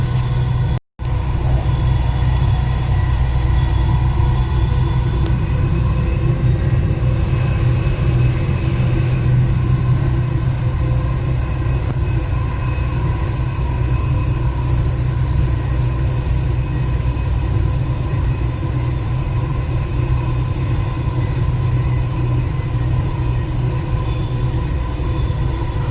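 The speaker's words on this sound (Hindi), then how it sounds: "ट्रेन आ रही है." Dubai Metro train rolling in with a steady low rumble and track noise, loud and continuous throughout, with no talk over it.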